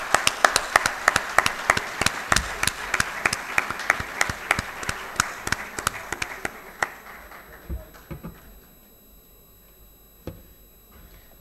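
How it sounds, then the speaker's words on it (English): Audience applause at an ICAP certificate award ceremony in Karachi for a taxation merit recipient, crisp clapping that starts strong, fades out after about seven seconds, leaving a few scattered claps and room quiet. "Please, a huge round of applause."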